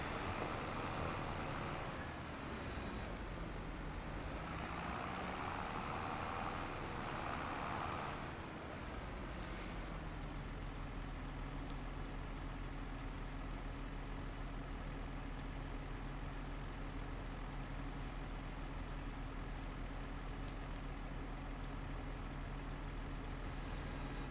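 A farm tractor engine in the video game Farming Simulator 25 drones steadily, a low continuous rumble that shifts pitch slightly early on, then settles into an even idle-like hum with no talk.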